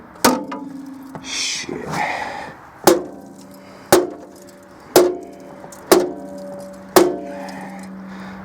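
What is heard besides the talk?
hammer striking cast aluminum scrap metal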